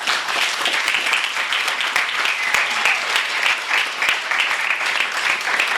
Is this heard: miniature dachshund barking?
no